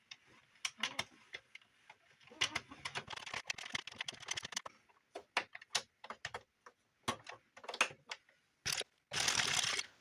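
An Addi knitting machine working cotton yarn gives off rapid clicking and ticking bursts, uneven in rhythm with short pauses, close and fairly faint, ending in a denser rattling run.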